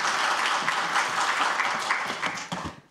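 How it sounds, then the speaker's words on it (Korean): Loud, dense applause from the audience at a Korean social welfare solidarity launch ceremony, sustained clapping that tapers off near the end. "큰 박수 부탁드리겠습니다."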